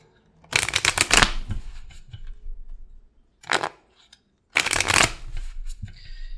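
Tarot cards shuffled in two quick riffling bursts, with a shorter flurry between them, crisp and close with no talking.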